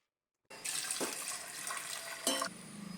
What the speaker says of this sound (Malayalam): ഞാൻ പച്ചവെള്ളമാണ് ഒഴിച്ചു കൊടുക്കുന്നത്